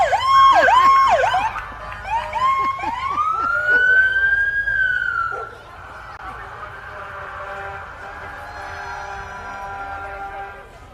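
An ambulance siren wails loudly at a street parade, rising and falling in sweeping tones, then fades into a steadier, quieter traffic hum.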